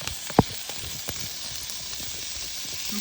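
Onion and parsley hit a hot frying pan with a soft, steady crackling sizzle, close and fairly quiet, with one sharp knock near the start and a few faint ticks after.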